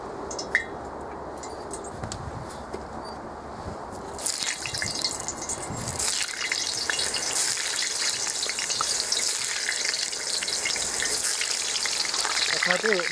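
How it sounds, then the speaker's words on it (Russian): Potatoes tipped into hot oil in a kazan, a sudden loud burst of frying that settles into a dense, steady sizzle and crackle, with quieter oil ticking beforehand. "Все, можно закидывать картошку."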